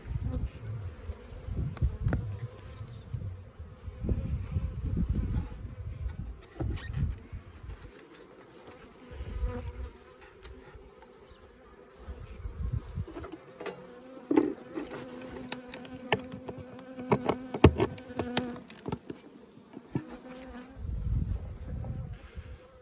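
Honeybees buzz at a small hive being fed fondant for winter, a close continuous hum with individual bees droning past, alone without speech.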